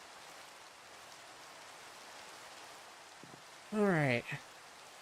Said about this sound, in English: let's sleep through this rain.